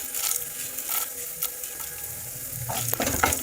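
Red chilies, urad dal and chana dal fry in hot oil for tamarind rice, giving a continuous close crackling sizzle with a few faint stirring clicks and no talking.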